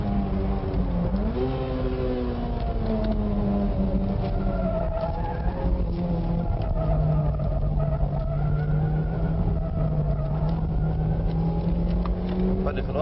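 Toyota Celica GT-Four cars accelerate from a race start, a loud, steady engine drone rising and shifting in pitch for the whole stretch, close and continuous.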